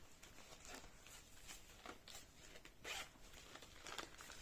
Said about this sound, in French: Donc là, il y a une petite fermeture éclair.